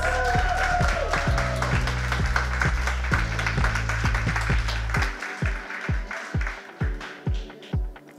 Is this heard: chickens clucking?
no